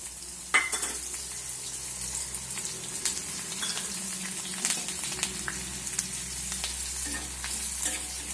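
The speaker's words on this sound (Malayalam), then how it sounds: "വറുത്ത എണ്ണയിൽ തന്നെ നമുക്ക് മുളകും കറിവേപ്പിലയും വറുത്തെടുക്കാം." Chillies and curry leaves fry in ginger-infused oil, a steady close sizzle and crackle with occasional scrapes and taps of a stirring utensil against the pan.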